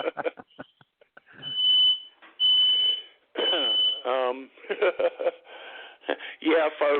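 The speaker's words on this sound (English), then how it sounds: "My smoke alarm going off." Smoke alarm going off indoors, a steady high tone sounding in several long bursts with short breaks, mixed with a voice talking and radio-style chatter.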